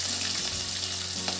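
Peanuts frying in hot oil in a pan, a brief, close, continuous crackling sizzle with no pauses.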